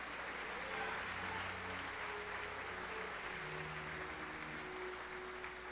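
A church congregation claps hands together in a steady, fairly distant wash of applause that continues for several seconds, with faint sustained voices or music tones underneath.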